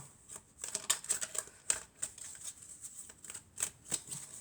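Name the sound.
shuffling tarot cards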